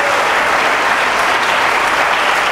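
A church congregation applauds during a service, a loud, dense and unbroken roar of clapping from many hands filling the room, with no speech heard over it.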